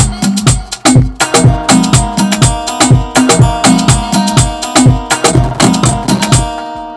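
An Afrobeat-style layered percussion loop of shakers, rim shots, claps and conga drives a busy, bouncing rhythm for a beat. It plays loud and dense without any voices.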